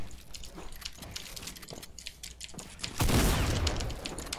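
Gunfire in the video game Fortnite: scattered light shots early on, then a loud sharp blast with a heavy low-end rumble near the end, with no talking.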